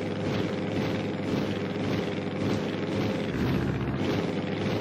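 Airplanes flying in the video game Wii Sports Resort: a constant loud engine drone with a low propeller hum that holds steady throughout, without a break.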